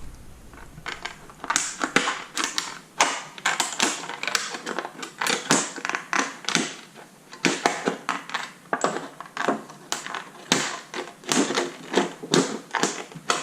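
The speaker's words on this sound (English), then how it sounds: "this can be cut with any type of scissor" Rapid, crisp snipping and clicking of scissors cutting thin copper sheet, a dense irregular run of sharp cuts with brief pauses, close up.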